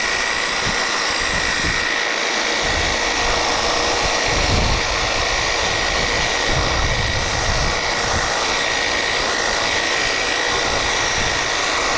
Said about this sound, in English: a shitty hedge trimmer. This one wasn't expensive. It's a Ryobi,